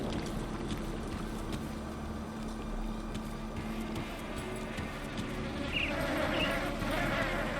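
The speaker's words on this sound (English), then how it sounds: "There's the buzzing of the insects again" Insects buzz faintly and steadily in the ambient soundscape of the action role-playing game Grim Dawn, a low continuous drone that swells slightly near the end.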